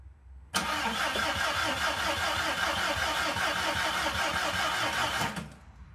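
A motorcycle engine cranks over and over without firing, a fast, even churning rhythm that starts abruptly and stops after about five seconds, with no talking.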